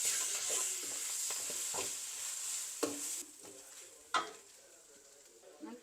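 Pasta with sauce is stirred in a hot pan, a spoon scraping and clacking in an irregular rhythm over a continuous close sizzle, with a couple of sharper knocks against the pan.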